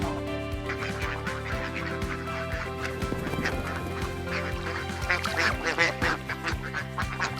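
Ducks quack steadily at a duck farm within an integrated agro farm resort in Sylhet, a dense flock calling in overlapping bursts that grow louder and busier toward the end.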